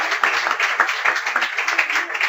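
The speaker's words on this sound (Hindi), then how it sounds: "तालियां स्लो पड़ गई" A church congregation at a Hindi-language Thanksgiving service claps together in a rhythmic beat, the hand claps steady and fairly close, gradually slackening in pace, with no voices over them.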